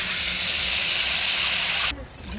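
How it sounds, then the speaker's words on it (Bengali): Water poured into a hot pan of sautéed potatoes gives a loud, steady hissing sizzle for about two seconds, then drops abruptly to a quieter bubbling. "আলুটা কষানো হয়ে গেছে, একটু জল দিয়ে দেবো।"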